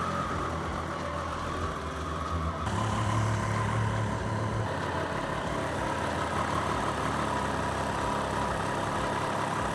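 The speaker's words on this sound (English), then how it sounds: "we're gonna start the engine, let it run for 2 or 3 minutes maybe" A Triumph Street Triple 765R motorcycle idles steadily just after an oil change, a constant engine drone running close and moderately loud throughout with a slight rise in level a few seconds in.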